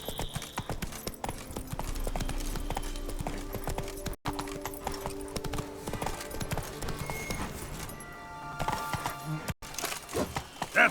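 Roach the horse's hooves clip-clopping in The Witcher 3: Blood and Wine, a steady trotting rhythm of hoofbeats over ambient game sound and music, with a brief faint voice.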